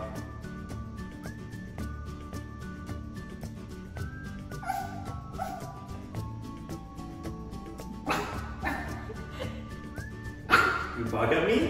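Small high-pitched yips and whimpers from a young dog, scattered and fairly faint, with a few sharper barks near the end over background noise.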